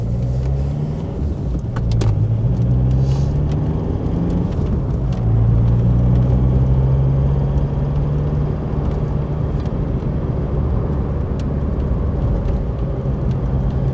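A car rolling along a road, a steady low engine and tyre rumble that stays continuous and fairly loud throughout, with a slight swell in the middle and no voices.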